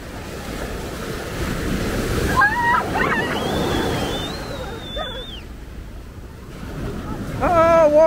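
Ocean waves at Coney Island rush and surge steadily beside a loud wind-buffeted microphone, with excited voices exclaiming over the water's roar.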